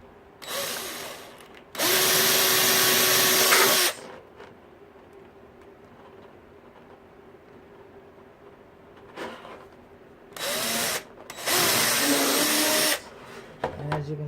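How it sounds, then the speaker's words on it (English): A power drill bores a hole while stepping up through drill bit sizes, with two loud bursts of whining drilling and then three more bursts after a pause, separated by quiet stretches with faint handling noise. "And drill it."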